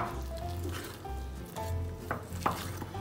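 Homemade butterscotch sauce is gently folded into eggless whole wheat cake batter, giving soft, wet squishing and stirring sounds that continue steadily and quietly over a low background hum.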